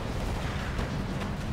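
A big explosion rumbles in the World War II strategy game Company of Heroes, a dense, continuous roaring blast with heavy low-end and crackling debris, loud throughout with no voice over it.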